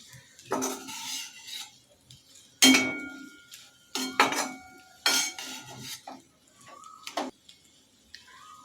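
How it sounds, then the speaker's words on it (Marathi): A utensil stirring salt into a potato vegetable in a pan, several sharp metallic scrapes and clinks in irregular bursts with quiet gaps between, close by and with no voices. "मीठ ही आपल्याला छान मिक्स करून घ्यायचं आहे"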